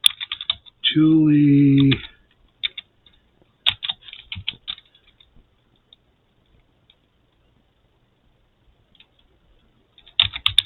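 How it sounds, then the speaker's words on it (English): Typing on a computer keyboard: a quick run of close, crisp key clicks, a short pause, then a final flurry of taps, with a brief spoken word near the start. "Let's just type this in right here instead."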